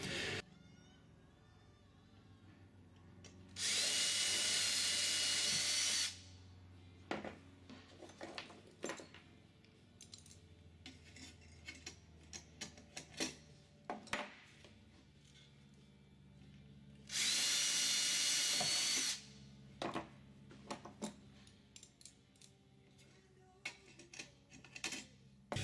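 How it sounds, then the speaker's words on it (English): Two long bursts of a power drill whirring, each a few seconds, drilling rivet holes to size 30 in a Sonex tail kit, separated by clicks, taps and handling noises of small metal parts. "And we have all 16 holes drilled out to size 30."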